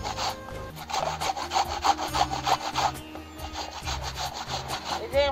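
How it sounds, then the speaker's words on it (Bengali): Thin slices of raw mango rubbed against a grater for mango kasundi, a steady run of close, rhythmic rasping strokes with no talk. "এরকম পাতলা পাতলা ঘষে নিলে এরকমই ঘষাটা লাগবে।"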